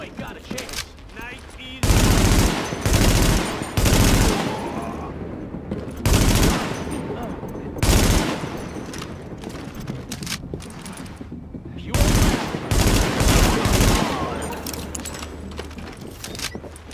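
Gunfire in the video game Tom Clancy's The Division: loud, close bursts of automatic fire in several volleys with gaps between them, over a steady game background.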